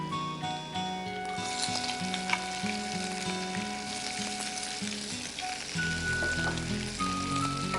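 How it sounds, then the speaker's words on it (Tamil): Chopped onions, green chillies and garlic sauté in hot oil with a steady, close crackling sizzle and occasional stirring, while soft background music plays throughout. "இதை நல்லா வதக்கிக்கோங்க."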